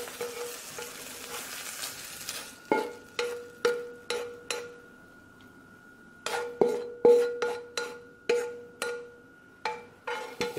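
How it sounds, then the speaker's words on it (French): Egg whites cook in a frying pan for a wrap, a soft sizzle running underneath while a utensil taps and scrapes against the pan in repeated sharp knocks, with a quiet pause midway. "on va faire cuire les blancs d'œufs"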